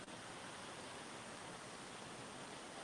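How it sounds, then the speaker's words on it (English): Small waterfalls splash steadily into the Stormalong Bay pool, a continuous soft rushing hiss of falling water, even and unbroken throughout with no voices. "I love the sounds of Stormalong Bay. The little waterfalls right here."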